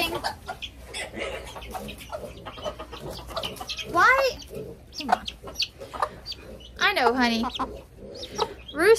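Chickens cluck and a rooster gives short squawking calls close by, mixed with steady background noise and someone speaking briefly.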